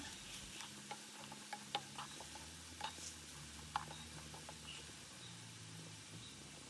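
Banana pieces sautéing in a pan at home, a faint steady sizzle with scattered light clicks and scrapes of stirring, no voices.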